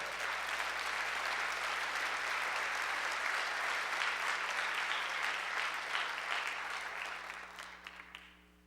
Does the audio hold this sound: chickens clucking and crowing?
no